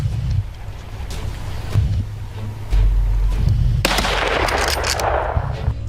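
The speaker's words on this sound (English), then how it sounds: "Gunshots rang out continuously." Rapid bursts of gunfire crack repeatedly while hunting wild boars on a Texas farm, some close and loud, followed by a rushing noisy blast that lingers, with no voices.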